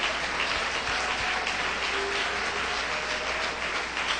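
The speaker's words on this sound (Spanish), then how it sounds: "Dele ese aplauso al dueño de esta obra." A church congregation claps steadily and loudly for several seconds in a sustained wash of applause, with no voices rising above it.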